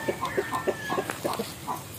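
Chickens on a farm squabble around confused chicks, giving short clucks and squawks in quick bursts with soft pecking noises between them, close and moderately loud, with a faint thin whistle running underneath.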